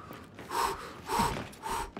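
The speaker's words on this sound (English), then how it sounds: "Heavy breathing." A game character in Gears 5 breathes heavily after exertion, giving three close, breathy gasps spaced roughly half a second apart over quiet background ambience.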